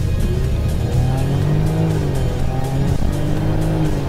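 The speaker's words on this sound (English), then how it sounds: "it's got a great engine note" A Land Rover Range Rover Velar SUV engine revs up loudly and continuously as it accelerates from a standstill, its pitch climbing in waves close to the listener.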